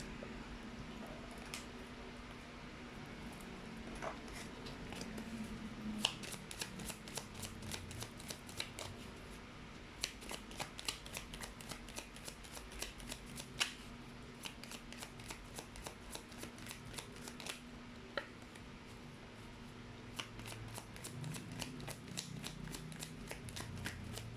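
Oracle nature cards are shuffled in the hands, making a soft, continuous run of quick card flicks and riffles, close and quiet, with occasional sharper snaps.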